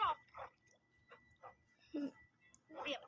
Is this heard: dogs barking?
yes